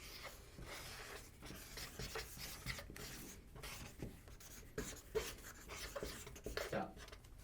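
A pen scratches and rubs across paper in short, quick strokes with small pauses between them, close and faint, against a quiet background.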